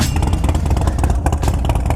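Several Harley-Davidson motorcycle engines, including a Sportster, start, then rumble and rev together at close range, a loud, continuous throaty roar with uneven throttle pulses.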